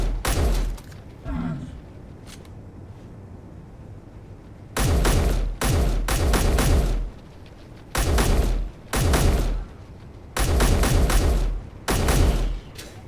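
Loud video game gunfire in repeated bursts of rapid automatic shots, each burst lasting about a second, separated by short quiet gaps over faint background sound.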